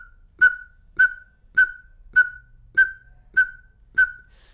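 A person whistles an imitation of the coppersmith barbet's metallic ringing call: seven short, clear, identical notes at an even, unhurried pace, loud and alone.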